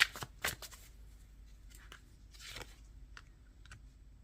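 Tarot cards shuffled and handled up close at a quiet level, a few crisp riffles and slaps and then softer rustling, with no talk.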